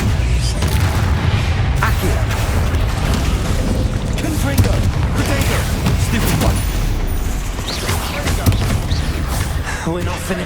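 Explosive spell blasts and combat impacts from the Hogwarts Legacy video game, a dense, loud run of booming hits layered over a continuous rumbling battle din with game music and effects throughout.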